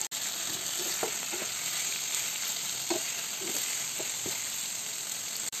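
Tengra fish frying in hot oil makes a loud, continuous close sizzle, with a few soft clinks and stirring knocks from the pan; no one talks over it.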